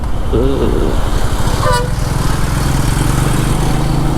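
A Royal Enfield Meteor 350 motorcycle engine drones loudly and steadily as it rides, with brief bits of talking over the engine noise.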